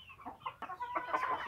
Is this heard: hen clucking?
yes